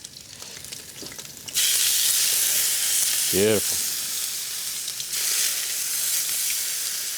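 Tuna pieces sear in a hot pan, a loud, steady sizzle that rises sharply as the fish hits the oil and keeps hissing close up, with a brief voice and a clink partway through.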